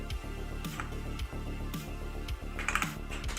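Rapid typing on a computer keyboard while scripting, a steady patter of quiet keystrokes close by over a low background hum, with no talking.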